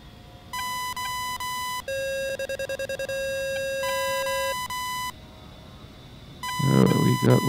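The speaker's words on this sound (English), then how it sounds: "Got lots of beeps." Cockpit warning tones sound in the A-10A in DCS World: several steady electronic beeps in blocks that start and stop, with one run of fast pulsing bleeps. A burst of noise follows near the end.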